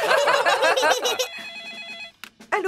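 A telephone rings in the Peppa Pig cartoon, a bright electronic trill that follows cartoon voices talking, then cuts off before a short click and more speech.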